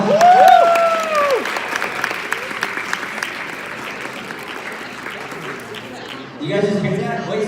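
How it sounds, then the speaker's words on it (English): A crowd at a student culture night comedy show breaks into a sustained round of applause with some cheers and whoops, continuing steadily before talk resumes near the end. "So everybody give them a big round of applause."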